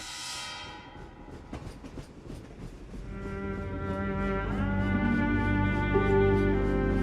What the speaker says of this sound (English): I hate trains. Then when I hear that sound